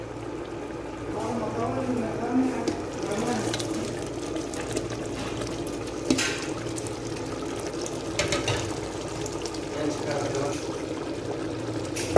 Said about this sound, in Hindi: अब हम मसाला इसमें डाल के और साथ ही आलू भी डाल देंगे।